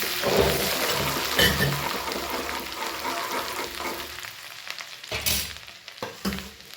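Green chilies, pepper and onion leaves are stirred in a sizzling pan, with steady frying hiss and scraping strokes that thin out toward the end, broken by a few louder clanks.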